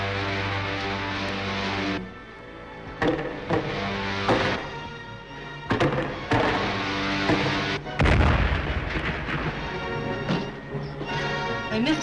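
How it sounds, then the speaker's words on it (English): Sci-fi heat ray blasts from a 1940 Flash Gordon film serial hit as loud, booming bursts over a droning engine hum, several of them in a row, with voices talking in between. "They missed us with the heat ray."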